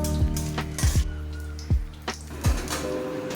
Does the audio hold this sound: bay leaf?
yes